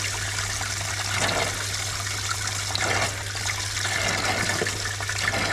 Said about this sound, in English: Let's open up this valve and we should feel the hot water from the heating system find its way through.